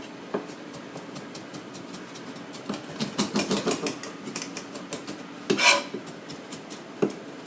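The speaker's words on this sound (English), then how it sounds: "Mincing ginger." A knife mincing ginger on a cutting board: rapid, irregular chopping taps, quickening into a dense flurry of close strikes midway, with a few sharper knocks and a brief scrape, all near and alone without talk.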